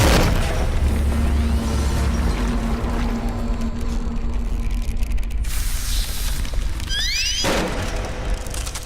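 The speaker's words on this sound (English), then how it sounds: "Now we shoot the thing." Shooting in the video game Stasis, a loud booming, rumbling blast with a sustained roar that cuts off abruptly, followed by rising whooshing tones and a fresh low rumble, heard without talk.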